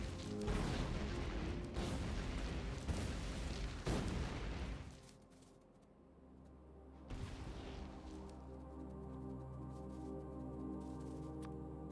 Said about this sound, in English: That was a bigger explosion than I thought.